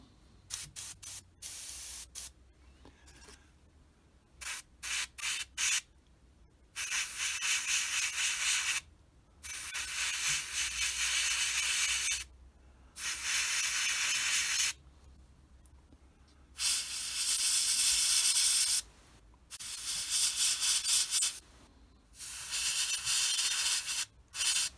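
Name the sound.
airbrush spraying paint on a Tamiya 1/48 F4F model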